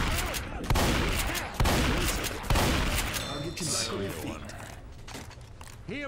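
Gunfire from the video game Left 4 Dead 2 comes in three sharp bursts of rapid shots, followed by mechanical clanks and rattles at moderate loudness.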